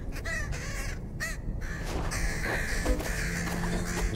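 Crows caw repeatedly in a video game, several harsh calls in quick succession over a steady ambient background, fairly close and loud.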